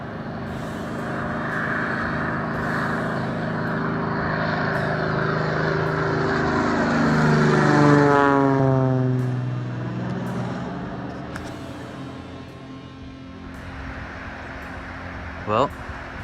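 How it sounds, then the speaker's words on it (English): A propeller plane passes at a busy backcountry airstrip beside a river canyon, its engine drone swelling loud and close, then sliding lower in pitch as it moves away. A steady rush of running water sits underneath throughout. "Planes flying in all morning, dropping off rafters."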